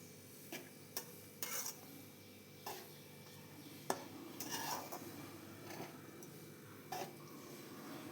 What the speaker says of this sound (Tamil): எல்லாத்தையும் சேர்த்து நம்ம கிண்டி விட்டுடலாம்.